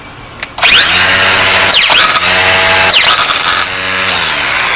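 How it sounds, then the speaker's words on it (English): A Black & Decker 20V Max cordless string trimmer whining loudly and steadily, with brief dips as the easy feed line release button is tapped twice. "That's the sound of me pressing the feed release, the easy feed release button."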